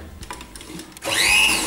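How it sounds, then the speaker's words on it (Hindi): Sewing machine stitching fabric for a mat or lace-border design, starting with a few soft clicks and handling noises, then running steadily in a loud, close whir for the rest of the moment. "इसे लेकर हम इसी तरह सिलाई करेंगे।"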